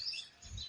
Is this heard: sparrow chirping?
yes